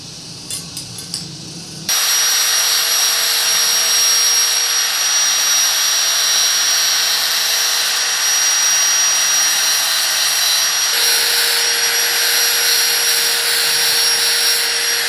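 An angle grinder works metal for a handmade dagger, starting abruptly after a short quiet stretch and then running as a loud, steady high-pitched whine close by, its tone shifting slightly partway through.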